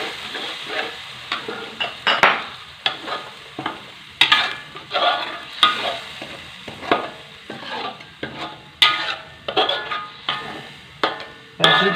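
Blended dried chili being stirred and fried with spices in a pan for beef-bone asam pedas, with a soft steady sizzle under repeated scraping stirs and sharp spoon knocks against the pan in an uneven rhythm.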